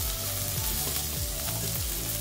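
Okra hitting hot oil spiced with turmeric and chili, sizzling loudly and continuously up close, with a low tonal hum running underneath.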